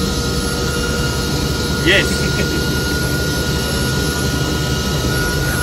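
Helicopter in flight heard from inside the cabin, a loud constant engine and rotor roar with a steady whine, while people talk over it.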